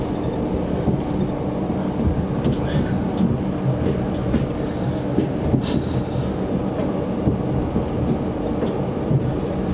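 Train leaving a station, a continuous low rumble and rolling rail noise at a steady level, with faint squeaks and clanks over the top and a voice briefly audible.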